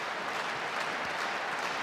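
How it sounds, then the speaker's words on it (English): An arena crowd at an MMA fight roars and claps in a continuous, dense wash of cheering and applause that stays steady and fairly loud throughout. "the crowd's now geeing these two on"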